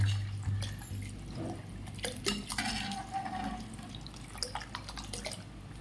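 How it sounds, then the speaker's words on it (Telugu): Water is poured into a pot of tamarind dal soup, giving uneven splashing and dripping with a few clinks of cookware, close and moderately loud with no speech. "మొత్తం ఇప్పుడు వాటర్ వేసేసుకోవాలి."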